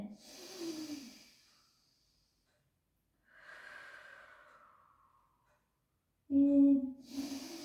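A person breathes deeply while stretching for shoulder, hip, lower back and neck flexibility, with close, soft airy inhales and exhales separated by silences, ending in a louder sharp breath.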